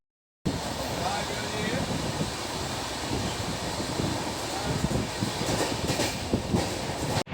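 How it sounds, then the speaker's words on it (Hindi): Steady rumble and rattle from inside a moving train carriage, continuous and loud from start to end with clickety-clack texture and a brief swell near the close. "मैं यहाँ ट्रेन में ही एडिटिंग कर रही हूँ, तो थोड़ी आवाज़ आएगी"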